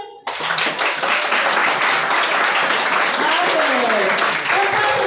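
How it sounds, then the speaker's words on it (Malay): A group of schoolboys at an orientation session claps hands together in a loud, sustained burst of applause, with voices and chatter mixed into the din. "Lelaki semua tepuk tangan."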